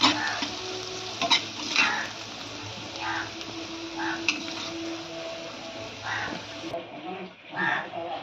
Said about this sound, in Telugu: ఉల్లిపాయలు అయితే వేగిపోయినాయి.